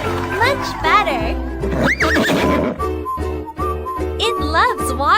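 A horse in a horse care video game neighs and whinnies repeatedly, loud and close, with clip-clop hoofbeats and a voice talking between the calls.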